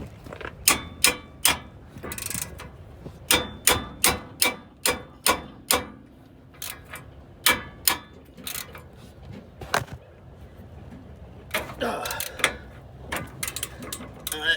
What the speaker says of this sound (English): that's gonna take 2 hands and a hammer, like the other side.